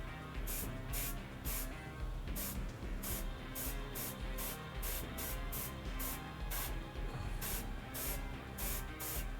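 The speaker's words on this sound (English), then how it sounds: "I know you don't see the airbrush, but that's where I'm at." An airbrush spraying paint onto a miniature in repeated short hissing bursts, about a dozen quick puffs in an uneven rhythm, close and crisp over a constant background hum.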